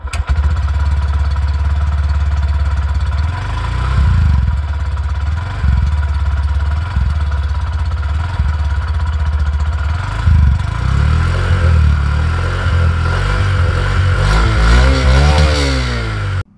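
Honda CD 110 Dream Deluxe BS6 motorcycle, a 110 cc commuter bike, idling steadily and then blipping its throttle in several revs, its exhaust note loud and close with no talk over it.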